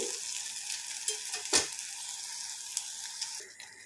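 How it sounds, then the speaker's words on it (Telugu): Sugar, cardamom powder and sesame seeds being dry-roasted in a pan for kesari, giving a soft steady sizzle with light stirring scrapes and one sharper clink of a utensil against the pan, close and fairly quiet. "పంచదార ఇలాచీ పొడి అలాగే నువ్వులను వేస్తున్నాను వేసేసి కొంచెం సేపు చక్కగా వేయించుకోవాలి"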